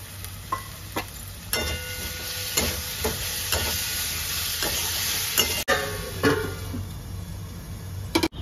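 Potatoes dropped into a pan of spiced masala that has been frying until well cooked, then stirred. A steady sizzle runs throughout, with repeated clinks and scrapes of a spoon against the pan, close and fairly loud, and no talking.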